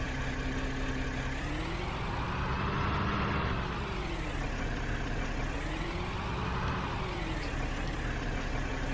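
A tractor engine runs steadily at idle and revs up and down in slow swells, a loud, close diesel rumble without pause.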